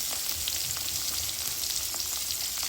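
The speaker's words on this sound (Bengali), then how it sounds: "চুলার আঁচ মিডিয়ামে রেখে আমি মাছের এপাশ ওপাশ ভালোভাবে ভেজে নেব।" Rohu fish pieces fry in hot oil in a pan over medium heat, making a dense, steady sizzle and crackle that stays close and even throughout, with no talking.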